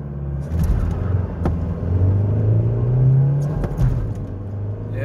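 A 1994 VW Passat B4 with the 1.9 TDI 90 hp diesel accelerates hard, its engine note rising steadily through the revs with a short dip around a gear change, loud and close with no talking.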